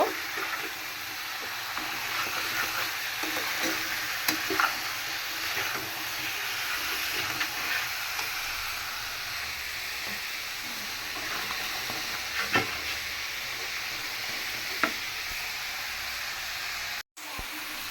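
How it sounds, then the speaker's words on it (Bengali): Chunks of papaya and potato are stirred and fried in a kadai that has cooked down to a dry masala, giving a steady soft sizzle with occasional scraping clicks of the spoon, continuous and fairly close. "পেঁপে আর আলু দিয়ে আর একটু কষাবো তারপরে ঝোল দিব"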